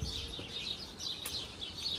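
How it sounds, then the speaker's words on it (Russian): Many small birds chirping on a winter street in Anapa, a dense, fairly faint chorus of high tweets continuing steadily throughout. "Ой, сколько птичек."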